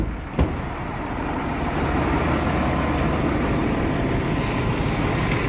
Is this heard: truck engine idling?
yes